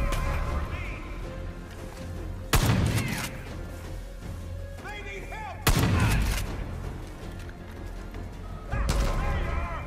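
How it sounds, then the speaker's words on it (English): A scatter gun fires in the video game Far Cry, with three heavy, booming blasts spaced a few seconds apart. Each blast is followed by a decaying rumble over a busy game background, and a voice speaks in between. "Scatter gun."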